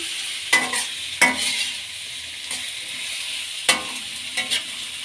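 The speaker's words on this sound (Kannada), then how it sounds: "ಕ್ಯಾಪ್ಸಿಕಂ ಕೂಡ ಹಾಕೊಳ್ಳೋಣ ಈಗ ಇದನ್ನ ಕೂಡ ಎಣ್ಣೆಲಿ ಫ್ರೈ ಮಾಡ್ಕೊಳ್ಳೋಣ" Capsicum frying in oil for a spicy potato ball manchurian makes a constant sizzle broken by several sharp scraping stirs and clinks of a spatula in the pan, with no voices.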